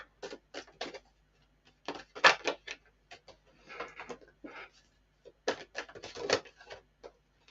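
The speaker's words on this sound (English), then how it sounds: "Okay, I'm just gonna shuffle again." Tarot cards are shuffled up close in a quiet room, coming as several short bursts of crisp rustling and riffling with brief pauses between them.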